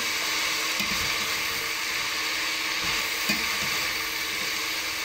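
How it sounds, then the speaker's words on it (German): Red cabbage gently sautéing in a pot, a steady close hiss and sizzle that runs without pause, with a couple of soft scraping stirs and no one speaking. "ich habe jetzt den Rotkohl schon komplett rein. Dünsten ihn quasi an."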